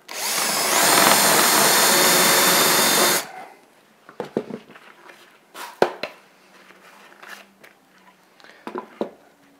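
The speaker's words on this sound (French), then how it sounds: "on va faire un trou avec un foret de 10" A power drill with a 10 mm bit whines loudly for about three seconds as it bores a hole in wood for a lamp, then stops, followed by scattered clicks and handling noises.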